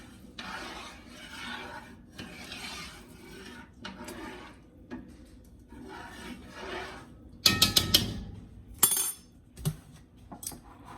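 Rice being stirred in a pot during home cooking, a steady soft scraping and rasping that rises into louder clinks and knocks of the spoon against the pot near the end.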